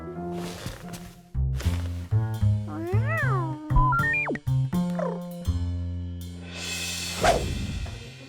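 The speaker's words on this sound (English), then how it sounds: "You're a cat." A cartoon cat meows in a Horrid Henry episode, a run of drawn-out, pitch-bending cries and short mews heard up close over a backing music bed, ending with a loud breathy hiss.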